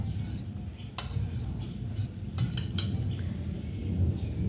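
A metal spoon clinks and scrapes against dishes a few times, scattered over a low background hum and murmur.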